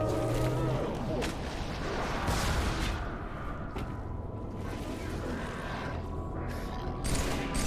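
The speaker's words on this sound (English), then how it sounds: "Those grenades." Repeated grenade blasts and gunfire in the Halo 3 PC campaign on Heroic difficulty, a dense run of booming, crackling bursts that fills the whole clip with hardly a break.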